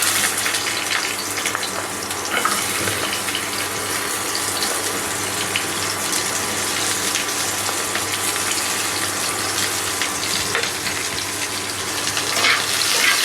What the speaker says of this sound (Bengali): এখন আমি তেলের মধ্যে কালো জিরে দিয়ে দিচ্ছি।